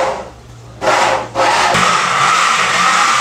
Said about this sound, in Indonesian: langsung mau dibor proses pembuatan lubang untuk Bardinya ya